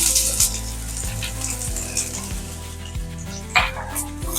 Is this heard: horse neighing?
no